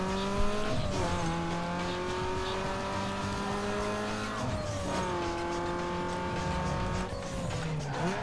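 Race car engine in the video game Need for Speed Underground 2 during a sprint race, a loud sustained high-pitched whine that climbs through gears with abrupt shift drops, tire squeal mixed in.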